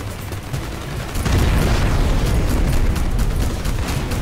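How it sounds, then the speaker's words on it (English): A giant cannon fires in the video game Crysis: Warhead, giving a heavy, sustained booming blast that swells after a second and rumbles loud and close for several seconds, with no talk over it. "With a fucking giant cannon of death."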